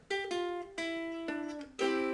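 Ukulele picking out a song intro in five plucked chord strums, each ringing bright and close with a slight descending line, no voice over it.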